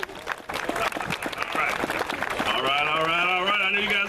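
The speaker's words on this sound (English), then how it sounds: "Give him a big round of applause." An outdoor crowd at a memorial run event claps and cheers for an air force base commander, loud applause with a voice talking over it, and a rising engine or siren-like tone joining in later.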